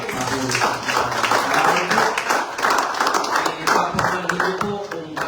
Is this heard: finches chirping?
no